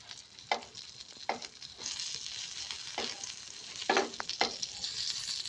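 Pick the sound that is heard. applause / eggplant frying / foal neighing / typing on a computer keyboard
eggplant frying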